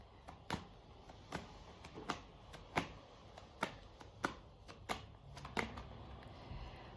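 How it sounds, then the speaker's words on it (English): Angel cards being shuffled by hand, a quiet, close series of crisp riffling bursts at a fairly regular pace of roughly one per second, with no talking. "So shuffling for Saturday now."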